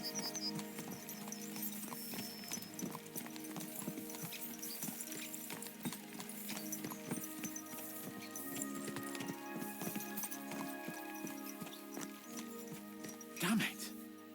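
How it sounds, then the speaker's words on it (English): Horses galloping in a video game, a steady, fast clip-clop of hooves running continuously under music and someone talking, with a brief louder burst near the end. "Let's really spur these horses on, eh?"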